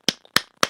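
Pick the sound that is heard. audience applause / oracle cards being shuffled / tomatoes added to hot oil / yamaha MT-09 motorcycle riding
audience applause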